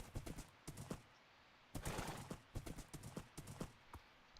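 Horse hooves clip-clopping in a video game, a quick uneven run of hoof beats with a short pause midway before the steps resume, fairly close and alone.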